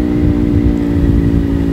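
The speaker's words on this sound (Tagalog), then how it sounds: "yung tunog ng aking tambutso." A 2-cylinder motorcycle with a loud aftermarket exhaust rumbles steadily nearby on a side trip around Bagulin, La Union, its deep, throbbing drone holding constant with no one speaking.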